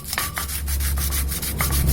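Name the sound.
sanding a welded sawmill blade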